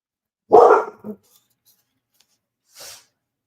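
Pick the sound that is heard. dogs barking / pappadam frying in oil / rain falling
dogs barking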